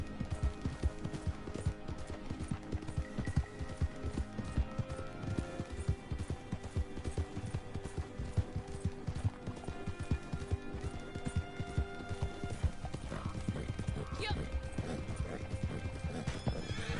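In a video game, a horse's hooves clip-clop in a fast, steady rhythm while it neighs and whinnies now and then, all loud and close with no talk over it.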